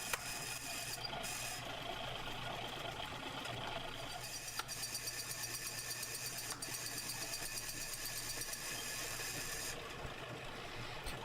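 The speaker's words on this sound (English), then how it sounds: "So back to doing a couple more of these mortise pockets." A power tool cuts mortise pockets into the frame of a workbench, giving a steady, faint mechanical whir with a rasping texture and a few brief clicks.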